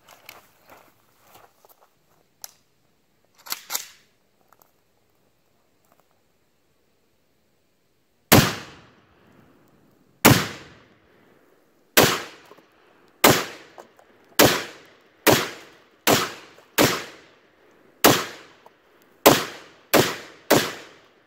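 Pre-ban AK-47 rifle fired at targets of corn and oobleck outdoors: after a few soft handling noises and a long pause, about nine loud sharp shots ring out one at a time at roughly one-second intervals, each ending in a short echoing tail.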